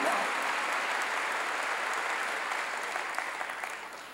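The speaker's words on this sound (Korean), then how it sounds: "박수로 하나님께 올려." Congregation in a church applauding together: dense, sustained clapping that fills the room and slowly tapers off over a few seconds.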